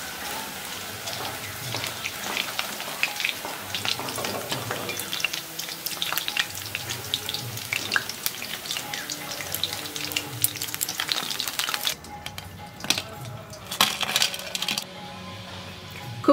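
Broccoli pakoras in light batter frying in hot oil, a continuous crackling sizzle with sharp pops and ticks, quieter and sparser near the end as they are turned and lifted out.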